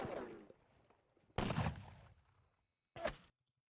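Gunfire in a wargame battle: a rumbling volley fading out, then a sharp loud report with a decaying tail, and after a moment of silence a second brief, crisp shot.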